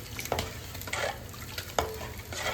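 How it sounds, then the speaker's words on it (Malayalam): A ladle stirs fish rasam in a pot with salt and coriander leaves just added, giving a few soft scraping strokes and splashy clinks over a faint bubbling hiss, quiet and close. "നമുക്കെല്ലാം കൂടെ ഒന്ന് ഇളക്കി"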